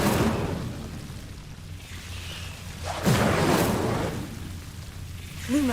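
An Incendio fire spell is cast in a Harry Potter video game. It lets out a rushing, roaring whoosh of flame that swells and fades over a steady hiss of ambient game noise.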